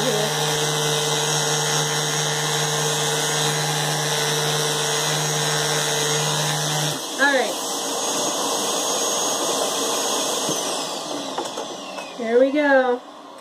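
A Flowbee clipper hums steadily while trimming hair, a constant mechanical drone with a high whine that shifts partway through, with brief bursts of talking near the end.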